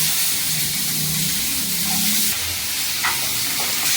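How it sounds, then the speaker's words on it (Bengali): Onion and tomato frying in ghee give off a steady, close sizzle with a broad hiss, and a few light stirring scrapes break through near the end. "এই পেঁয়াজ আর টমেটোটা ফ্রাই করে নেব।"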